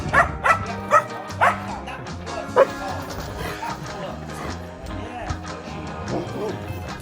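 Dogs Lady, Moki and Sheila, a Golden Retriever and an abandoned puppy among them, playing together with several sharp close barks and yips early on, then excited whimpers and scuffling, with a voice talking over part of it.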